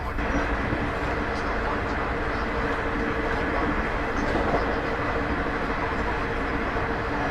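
Steady, loud broadband rumble and roar fills a passenger coach of an ICF train on the Yuva Express, running at 130 km/h, unbroken throughout with no distinct clatter rising above the din.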